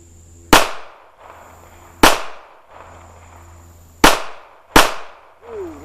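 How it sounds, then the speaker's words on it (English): Four loud close gunshots from a Smith & Wesson Bodyguard 2.0 .380 pistol fired at a target with iron sights, spaced irregularly with a low hum between them. "I'm going to shoot between the dot and the edge of the target using my iron sights"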